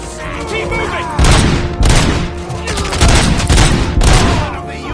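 Heavy gunfire in RoboCop Rogue City, loud close bursts of automatic shots and booming impacts arriving in several waves over a constant rumbling combat backdrop, with voices shouting amid the shooting.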